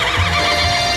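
A horse whinnies loudly and close for about a second, a wavering tonal neigh with no speech around it.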